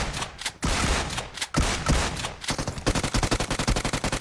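Rapid gunfire from the video game Free Fire, with bursts of automatic shots, short gaps, then a fast rhythmic string of close, sharp reports.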